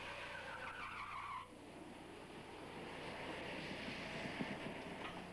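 A long tire screech from an electric drag car that drops off sharply, followed by steady broadband roaring noise, loud and sustained.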